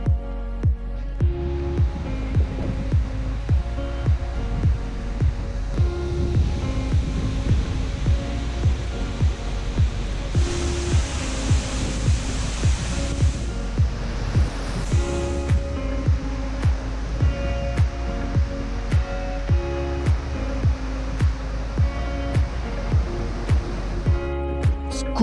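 Skógafoss waterfall in Iceland roars as a steady, dense rush of falling water, with a brighter burst of spray noise in the middle and faint rhythmic thumps running underneath.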